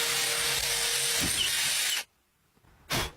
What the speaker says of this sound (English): Drill a hole anywhere within the circle.